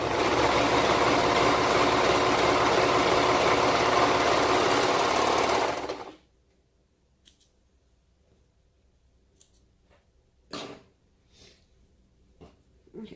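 A sewing machine runs steadily and loudly, stitching the side seam of baby bell bottoms, then stops abruptly about halfway through, leaving near silence broken by a few faint handling clicks and knocks.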